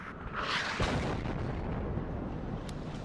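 Artillery shells landing in the war game WARNO: a heavy rolling blast of impacts with a long rumbling roar that swells early, then slowly fades into a sustained low thunder, loud and continuous, without talk.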